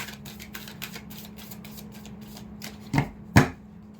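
Tarot cards being shuffled by hand, a soft steady riffle of card edges with a low hum beneath, ending in two louder slaps as the deck is squared.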